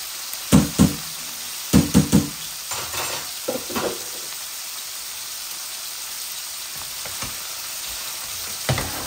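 Potatoes frying together with tilapia fish in a pan give a steady broadband sizzle, broken by a few sharp stirring clatters near the start and again near the end.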